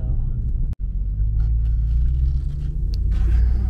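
A Ram TRX with a new intake cruises along, its engine producing a deep, steady rumble with road noise close and continuous; one brief dropout occurs early on.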